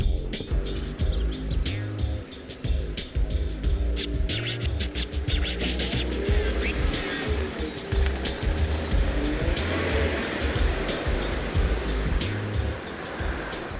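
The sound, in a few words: Ford Ranger pickup truck with 2.5 litre turbo engine driving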